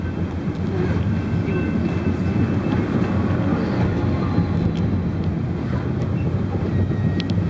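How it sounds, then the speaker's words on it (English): A Metra commuter train on the Union Pacific West Line rumbling past, recorded from a cab car: a loud, continuous low roar of wheels and rail noise with wind buffeting, steady throughout and no voices. "There's another train going that way, Chase."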